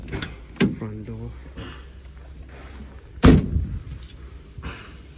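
The front door of a Toyota Hiace KDH200 cargo van with a 1KD engine shuts with one loud, close thud, after a few earlier clicks and knocks and a faint voice.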